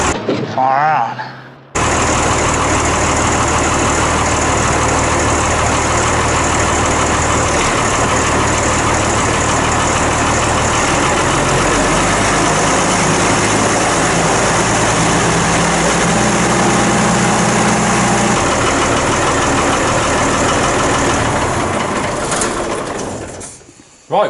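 A tractor's diesel engine cranks briefly, fires straight up and settles into a steady, loud idle close by that runs for about twenty seconds before cutting off near the end.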